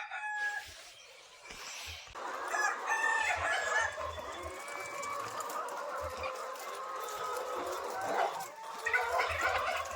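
Chickens cluck and a rooster crows amid a busy flock, with steady poultry chatter throughout at moderate distance.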